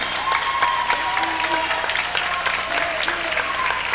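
Crowd applauding at a high school girls volleyball senior night in a gym, with continuous loud clapping throughout as players leave the court.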